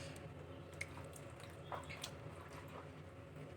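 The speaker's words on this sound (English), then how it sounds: "Now we're gonna wash the beef." Beef being washed under hot tap water in a kitchen, with soft, irregular splashes and drips over a steady trickle, fairly quiet and close.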